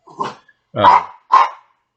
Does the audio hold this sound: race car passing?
no